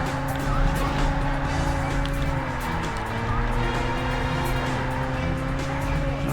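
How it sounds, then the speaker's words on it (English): Car tires squealing through a corner in the Burnout racing game, a steady engine drone with sustained squeal tones running continuously at full loudness throughout. "that was some good cornering there"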